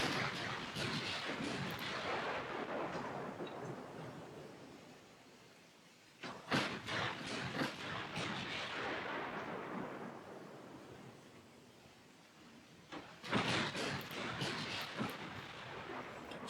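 Naval high-explosive shells fire in the warship game Ultimate Admiral Dreadnoughts, heavy booming blasts that roll out into long rumbling decays, with fresh salvos striking at intervals over a constant low roar.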